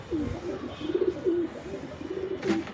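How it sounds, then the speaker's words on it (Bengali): Pigeons on a rooftop coo in a series of soft, low rolling calls, close and repeating, with a brief clatter near the end. "ওই যে ওখানে ওর কবুতরও দিয়েছে, তো কবুতরগুলোকে নামাতে হবে।"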